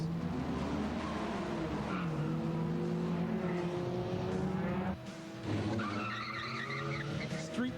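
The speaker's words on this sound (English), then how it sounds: "Street racers have taken over this city road." Street racing cars crowd a city road at night, with tires skidding and engines roaring in a loud, continuous blur of revving and squealing, and voices underneath.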